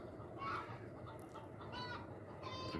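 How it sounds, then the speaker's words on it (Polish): Faint, distant chickens clucking in short bursts, with a rooster calling somewhere far off in a quiet outdoor setting. "jakieś koguty"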